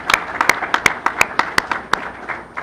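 Scattered applause from a small audience at a transit board of trustees meeting for a graduating high school student, sharp individual claps in an uneven rhythm, close and fairly sparse.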